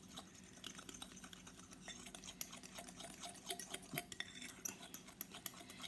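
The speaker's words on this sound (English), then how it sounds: "we're just going to mix this all together now" A fork mixes chocolate mug cake batter in a mug, making quiet, rapid clinks and scraping taps against the ceramic that grow busier and more rhythmic toward the end.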